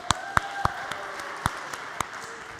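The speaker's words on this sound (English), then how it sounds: "now maybe a round of applause for our 3 volunteers" Scattered, sparse hand claps from a lecture audience applauding three volunteers in a CS50 class: about seven separate sharp claps spread unevenly over a couple of seconds, with no talk.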